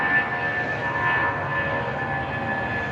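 A United Airbus A319 airliner passes at an airport with a steady jet engine roar and a thin whining tone on top, fairly loud and constant.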